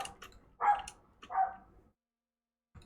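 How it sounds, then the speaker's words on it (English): A dog barks twice in the video game Legends of Valour, two short mid-pitched barks about a second apart with small ticking sounds before them, then silence. "Bark, bark, bark."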